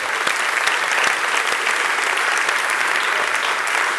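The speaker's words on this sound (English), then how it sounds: "So we have a round of applause." An audience at the ESOF 2016 opening ceremony gives a round of applause for a prize draw, a dense, steady roar of many hands clapping throughout.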